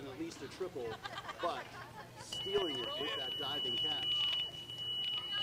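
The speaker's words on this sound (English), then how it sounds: "And there is the timer for the game" A softball game timer alarm sounds during a semifinal game, a thin steady high beep starting partway through and running under chatter and crowd noise.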